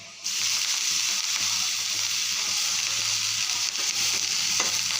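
Vegetable stir-fried in a pan with fried onion, red chili powder and salt over a high gas flame: a continuous, close sizzle with broadband hiss and a few light stirring scrapes, no talk.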